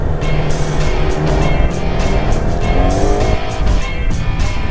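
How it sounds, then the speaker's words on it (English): Busy road traffic with cars roaring past one after another, engines loud and close with tyre noise and swells as vehicles go by, continuous with no talk. "there is hell of traffic"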